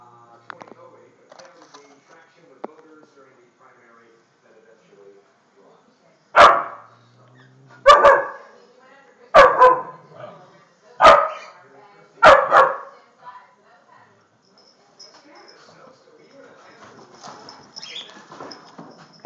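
A dog barks five times in a steady series, loud and close, with quieter background voices and household noise before and after.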